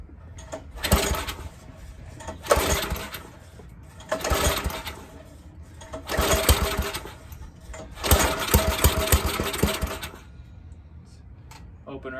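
A small engine on a Craftsman tiller with a rusty tank, its carburetor just primed, sputters close by in a series of loud surges that fade between bursts rather than holding a steady idle.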